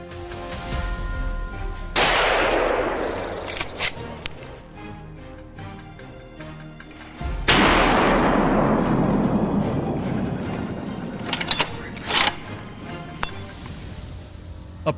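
Two loud gunshots during a wild boar hunt in leaf-strewn woodland, each a sharp blast followed by a long rolling echo, about five seconds apart, with faint rustling and small knocks in between.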